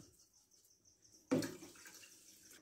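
Water is poured into a pot of sugar to make syrup for Turkish lokma. The pour starts abruptly after a quiet stretch, with a close splashing gush that settles into a softer trickle.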